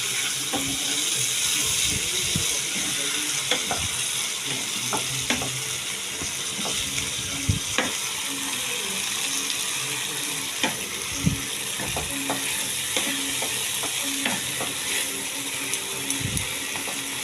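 Steady close sizzling of a thick spice paste with melted tomatoes frying in oil for Kashmiri dum aloo, with frequent clicks and scrapes of a spoon stirring the pan throughout.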